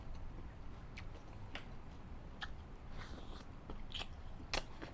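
Someone eats cockle miang, a Thai Isan snack of cockles wrapped with herbs and condiments. Close, quiet chewing and soft crunching bites with a few sharp clicks sound over a low, steady background.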